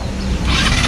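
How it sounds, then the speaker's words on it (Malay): A SYM Husky 200 scooter engine runs close by, a steady mechanical drone that swells slightly as it goes, with no talking over it. "Bunyi skuter lah."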